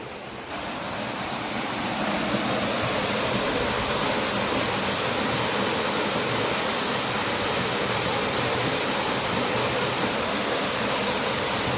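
Spring water gushes loudly through a farm field channel, a dense continuous rushing roar that swells in over the first two seconds and then holds steady, close and unbroken, with no voices.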